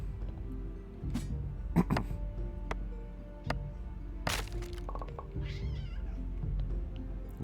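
In Graveyard Keeper, a cat meows several times among scattered clicks and ticks from the game, the meows short, close and fairly clear over a quiet low hum.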